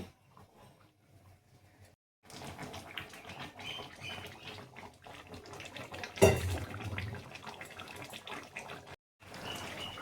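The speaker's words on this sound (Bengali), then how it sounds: "চিকেনের মধ্যে গরম জলটা দেওয়ার পর আমি ওভেনটা একটু জোরে দেব" Hot water pours into a pot of chicken, a rushing splash that runs for several seconds with a louder surge midway, framed by quieter kitchen moments.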